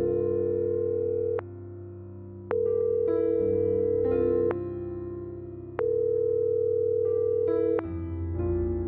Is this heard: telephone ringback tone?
yes